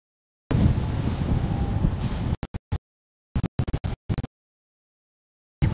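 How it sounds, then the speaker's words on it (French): Strong wind buffets the microphone aboard a sailboat mid-ocean, a loud roaring gust followed by choppy bursts of wind noise separated by dead silences. "Vous entendez le vent ou ça va?"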